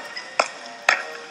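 Wood chopping in the video game Don't Starve, three sharp, evenly spaced axe chops on a tree over a faint steady game background.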